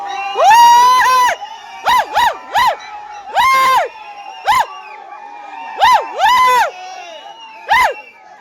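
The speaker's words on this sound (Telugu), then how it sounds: "చూడండి ఎంత జనం ఉన్నారో ఏంటి ఇది గోలేంది" A noisy crowd of Power Star fans in Rajampet gives repeated loud, rising whoops and cheers in short bursts, with brief quiet gaps between them.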